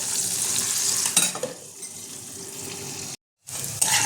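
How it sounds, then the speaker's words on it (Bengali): Peanuts and raisins fry in a pan for khichuri, a steady close sizzle with stirring scrapes and a brief dropout near the end before the frying resumes. "এটা আমি ভালো করে ভেজে নেব।"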